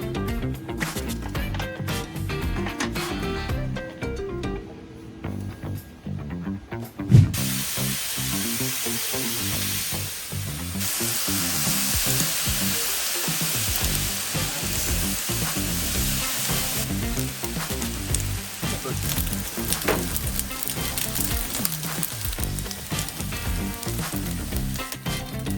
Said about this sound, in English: just putting the mushroom caps on the Yoder.